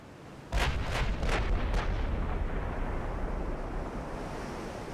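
Dreadnought-era naval gun turrets in Ultimate Admiral: Dreadnoughts fire a rapid salvo of four heavy booms, then a long rumbling roar of sea and wind trails off, with no speech.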